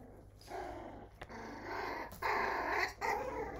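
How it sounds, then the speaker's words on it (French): Teething puppies play-fighting, growling low and rumbling up close in uneven bursts that swell louder toward the end, with brief yips and scuffles between and no voices. "Veuillez excuser mes chiots, ils font leurs dents, donc ils aiment bien se battre un peu."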